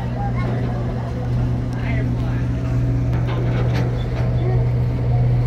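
Cruise boat engines rumbling close by as a steady low drone with a constant tonal hum, with people talking over it throughout.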